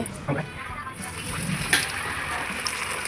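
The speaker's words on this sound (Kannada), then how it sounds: "ಬಂಗಡಿ ಫ್ರೈ ಚೆನ್ನಾಗಿರುತ್ತೆ ಫ್ರೈ ಮಾಡ್ತಾ ಇದ್ದಾಳೆ" Bangude (mackerel) fish frying in a pan gives off a steady, close sizzle and splatter for the whole stretch, with a few louder pops and a faint voice in the background.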